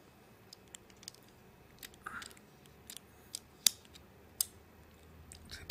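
Small plastic piece turned to open the hatch of a Joyetech eGrip, heard as sparse faint clicks and ticks with a couple of sharper snaps in a quiet room.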